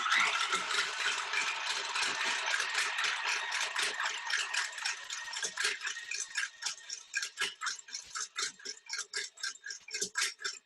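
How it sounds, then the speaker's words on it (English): An electric mixer running on high whips egg whites with a loud, dense whirring rattle that holds steady, then breaks into a rapid pulsing rhythm toward the end, with no voices. "I'm going to turn the mixer on high. It's going to make a little bit of noise"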